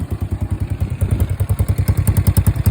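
Modified Yuki Gusto 125cc scooter with a hollowed-out original exhaust, running close up with a fast, even, thumping pulse and metallic clatter, loud and steady.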